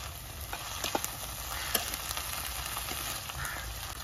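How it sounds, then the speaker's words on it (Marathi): Potato pieces sautéing in hot oil with fried onion, a steady soft sizzle broken by occasional stirring scrapes and light clicks, close and alone without voices. "ह्याच्यामध्ये आपण थोडा बटाटा तेलावरती परतून घेऊया"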